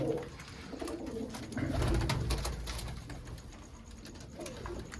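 Pedigree pigeons coo softly and repeatedly amid a busy background of rustling and low rumble, with no one speaking.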